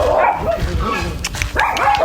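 Dogs in a pet farm's dog zone give loud, close barks and yips in quick, uneven bursts, with a whimpering edge and a brief human voice in the background.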